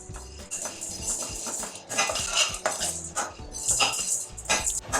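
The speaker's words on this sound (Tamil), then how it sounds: "துவரம்பருப்பு வறுக்கிறேன்." Toor dal roasting dry in a pan for Mysore rasam, a spoon scraping and stirring with metallic clinks and the grainy rattle of lentils shifting against the metal, close and uneven over five seconds with no talking.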